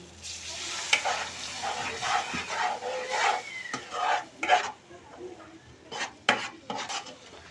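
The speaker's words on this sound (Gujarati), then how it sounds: "હવે આપણે દૂધ નાખી દઈશું થોડુંક અંદર" Milk goes into a pan of fried spice masala for a milk sev masala dish, bringing a soft sizzle with metal spoon scrapes and stirring clinks at an uneven pace.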